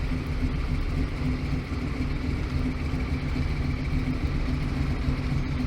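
A car engine idles with a steady mid-pitched hum and low rumble, continuous and fairly loud throughout, with no talking.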